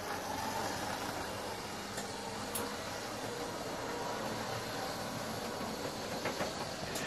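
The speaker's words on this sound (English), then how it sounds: "And this is a Lima rail car." A steady whirring rattle of a small Lima model railway rail car running continuously on track, with faint clicks now and then and no voices.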